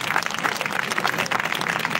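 A church congregation applauding to acclaim the Lord during a service, a dense, steady wash of many hands clapping at once, fairly loud and continuous throughout.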